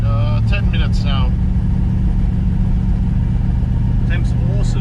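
New Ford 351 Cleveland V8 in an XD ute running during cam break-in, a steady loud low engine drone throughout, with brief voices over it at the start and end.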